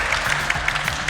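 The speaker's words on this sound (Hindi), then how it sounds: "सब लोग मिलकर मिस्टर अमन के लिए तालियां बजाइए" A short burst of hand clapping from a group, brisk and fairly loud, with a faint murmur of voices underneath.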